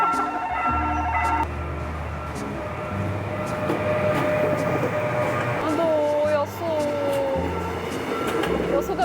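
A train rolls past near Dongjak Bridge by the Han River in Seoul, a steady heavy rumble with rhythmic wheel clatter and a brief rising metallic squeal partway through.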